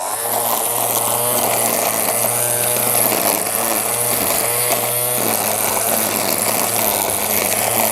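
A rechargeable cordless strimmer trims fast-growing grass with a continuous high electric whine and buzzing line hum, loud and close, the pitch dipping briefly as it bites into the grass.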